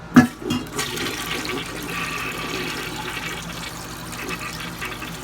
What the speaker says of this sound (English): we're gonna give it another flush before we end the video